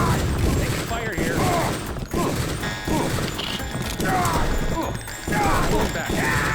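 Gunfire and impacts from the video game Deus Ex, a dense continuous stretch of cracks, thuds and crashing clatter layered with game ambience and music, steady and fairly loud throughout.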